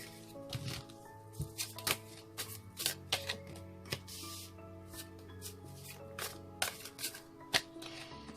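A deck of cards is shuffled up close, with a series of quick crisp riffles and soft slaps in an irregular rhythm, and no talking.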